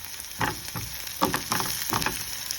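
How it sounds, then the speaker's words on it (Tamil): Onions and curry leaves with garlic sautéing in a pan for a chicken gizzard curry, a steady low sizzle broken by a few soft stirring scrapes, no talk. "அதை போட்டு நாங்கள் இதை இப்போ வதக்குவோம்"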